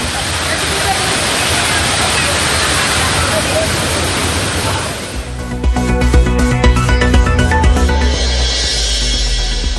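Thirparappu waterfall crowded with bathing tourists: a loud, dense roar of falling water fills the first half, then gives way to busy, clattering sound with voices mixed in.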